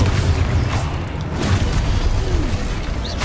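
Spell explosions in the video game Hogwarts Legacy, a steady deep booming rumble with soft bursts rising now and then, loud and continuous with no talk.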